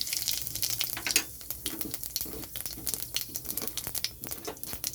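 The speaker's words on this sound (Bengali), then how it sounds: "কড়াইতে সর্ষের তেল দিয়েছি, তেলটা গরম হয়ে গেছে। এখানে আমি দিয়ে দিচ্ছি গোটা সাদা জিরে" Whole white cumin seeds in hot mustard oil in a kadai, a close, crackling sizzle with rapid popping bursts and spluttering through the whole stretch, no talk.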